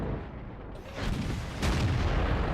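An M46 Patton tank's main gun fires in a tank battle game, giving a loud heavy boom with a sharp onset, followed by a second booming crack and a sustained rumbling tail.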